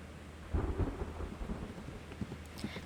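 Heavy downpour with rolling thunder in the Reverse 1999 game, a dense rain hiss under deep rumbling booms that swell early and fade, loud and close with no voices.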